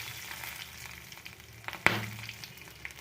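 Green chillies and nigella seeds sizzle in hot oil in a pan, a steady close frying hiss with one sharp crackle burst near the middle, and no voices.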